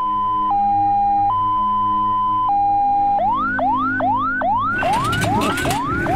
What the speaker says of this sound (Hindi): आ गई एम्बुलेंस, आ गई।